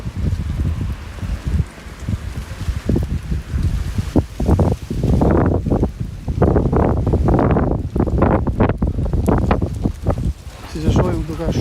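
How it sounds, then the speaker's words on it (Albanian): Strong wind buffets a microphone outdoors in the town of Gramsh, Albania, a loud continuous low rumble with gusty surges, mixed with a voice talking throughout. "është erë shumë e fortë"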